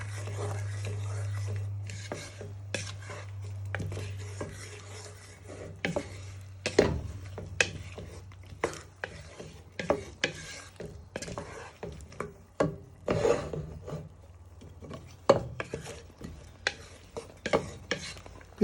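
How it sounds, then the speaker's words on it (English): Golden syrup being stirred into katsu curry sauce in a pan, with a low steady hum early on and repeated scraping clicks and taps of a utensil against the pan, close and fairly quiet. "You want to give that a good stir in."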